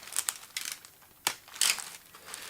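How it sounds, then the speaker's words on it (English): Soft, close crinkling of thin plastic in irregular bursts, with a few louder rustles standing out against near silence. "It's a simple enough plastic bag."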